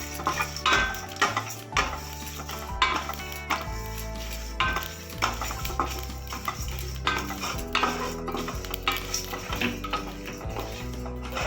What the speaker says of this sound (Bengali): মশলাগুলো আমি একটু ভেজে নেব।